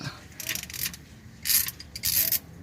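Ratchet snugging up the transmission fluid plug on a 2018 Honda Odyssey with a ZF 9-speed, heard close as several short bursts of rapid clicking separated by brief pauses.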